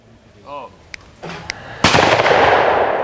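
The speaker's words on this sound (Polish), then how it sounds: "Pierwszy strzał do rzutka wychodzącego z dużej budki." A single loud, sharp shotgun blast at a clay target launched from a high trap house booms out and rings away, preceded by a shouted call and a couple of faint clicks.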